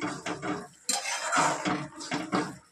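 Raisins and spices stirred in a pan for a Bengali dish: a spoon scrapes and clinks against the metal pan in several bursts, close and fairly loud, with no talking.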